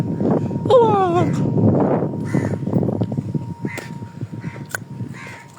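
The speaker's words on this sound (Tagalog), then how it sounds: "Ang dami mga uwak dito." Several crows cawing repeatedly nearby, harsh calls overlapping one another against a low background murmur.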